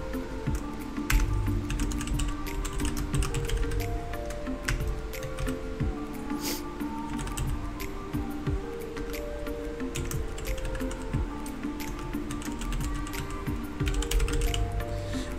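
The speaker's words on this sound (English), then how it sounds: "type exactly what I'm gonna type in, which is the percentage local app data" Steady typing on a computer keyboard, with rapid, even key clicks running continuously, close and clear, with no one speaking.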